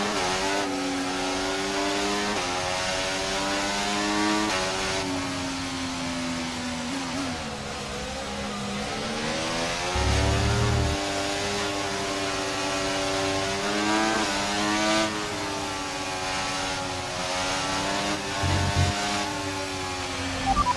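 A Formula 1 car's engine in F1 24 at a night race start, revving with a steady high-pitched whine that rises and dips in pitch across the run, loud and continuous with no talk.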